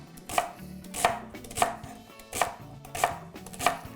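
Celery stalks chopped with a knife on a cutting board, six sharp, evenly spaced chops roughly every 0.6 seconds, close and clear with no talking.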